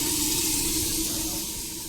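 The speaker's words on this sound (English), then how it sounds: "Gonna switch on the water now." Water runs steadily from a tap, recorded on a Samsung Galaxy S25 Ultra, a constant close rushing hiss with no breaks or voices.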